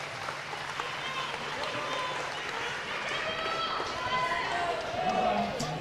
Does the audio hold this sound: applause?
yes